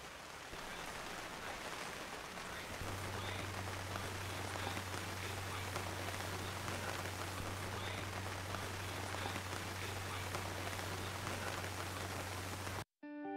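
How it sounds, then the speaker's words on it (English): Steady rain falls on the decks of a sailboat on the Atlantic during a passing storm, a dense continuous patter with a low steady hum joining in partway through. "So it is now raining, so getting a nice fresh water rinse on the decks."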